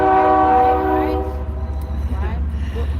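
A train passes close by during an outdoor community gathering in San Marcos, its horn sounding loudly with sustained tones before fading into a low, steady rumble of rolling cars.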